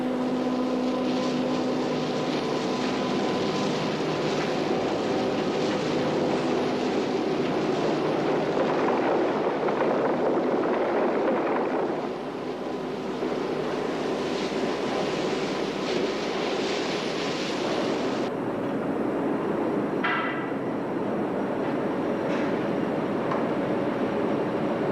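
Coal wagons roll through power station sidings with a steady, continuous rumble and grinding of wheels on rails, a long unbroken mechanical din with no voices.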